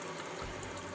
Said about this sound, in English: let's turn the faucet on and see how we did here